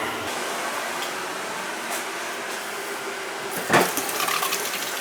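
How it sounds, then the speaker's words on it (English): Water squirts from a leaking pipe on a gas water heater tied to a power venter, a steady close hiss that swells into a sharper spraying burst near the end. "It's squirting out all over the place."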